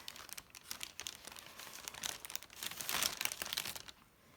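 Plastic bag crinkling and rustling in rapid bursts, close and moderately loud, with no voices.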